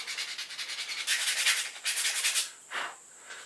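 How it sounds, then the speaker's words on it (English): A wooden pickle-shaped fishing lure is sanded by hand, quick rhythmic scratchy strokes, close and clear with no talk, ending in a single longer rub. "Things that pop into your head while you're sanding a pickle lure."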